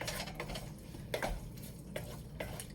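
A spoon stirs a garlic mixture in a pan for SOS, chipped beef on toast, giving faint scraping strokes and light clinks over a low sizzle, with no talk.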